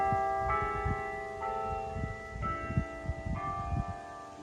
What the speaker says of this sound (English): the church bell was going off practically right as I was starting to set up